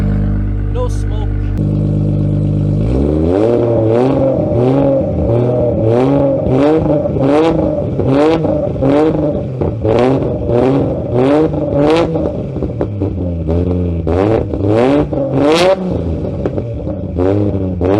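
A Nissan R33 with a built RB25DET engine is revved repeatedly through its exhaust, close and loud, with a starter crank then rhythmic sharp rises and falls of the engine note.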